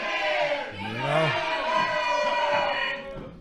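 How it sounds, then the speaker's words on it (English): Wrestling crowd in an arena chanting a ten count together, loud rhythmic massed voices with bleating-like tonal swells filling the space throughout. "the crowd's up to a 10 count here"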